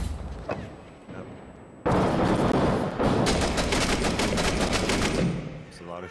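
Heavy gunfire in the video game Six Days in Fallujah breaks out as a loud, rapid volley of close shots after a few quieter ones, and fades toward the end.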